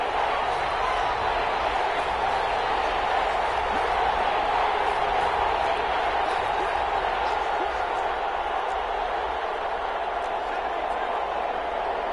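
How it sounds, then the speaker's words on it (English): Stadium crowd roaring in a football video game on PS4 during a big third-down play, a steady, dense wash of cheering and noise sustained throughout. "the crowd getting into it as we come up on a big 3rd down"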